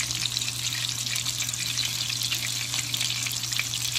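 Meatballs frying in a pan on medium heat, a constant crackling sizzle over a low steady hum, close and fairly loud throughout.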